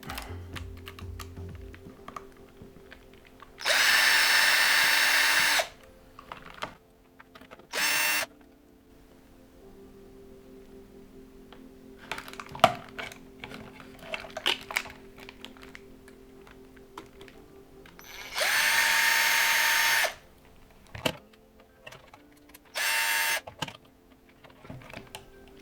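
A power screwdriver whirs in several bursts, two long and a few short, backing out small screws from the differential housing of a WLTOYS 144001 / Eachine EAT14 RC car, with light clicks and handling noises between runs.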